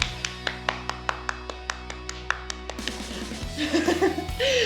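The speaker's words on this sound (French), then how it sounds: "On vous applaudit. Merci les gars. Applaudis." About a dozen single hand claps ring out in a slow, even rhythm, close and crisp over a low steady hum, then give way to laughter and playful voices.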